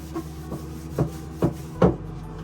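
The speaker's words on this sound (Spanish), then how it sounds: "estoy con papel toalla. Te voy a pasar para suavizar" Paper towel rubbed across a stained wooden wine box to soften the color, four soft rhythmic scrubbing strokes, close and quiet, with no speech.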